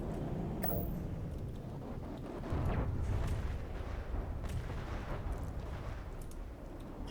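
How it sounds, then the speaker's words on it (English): Heavy missile barrage explosions in a naval video game battle: a continuous, dense rumble of distant blasts and booms, with no clear gaps, steady and loud throughout. "the withering barrage of, I assume, large missiles"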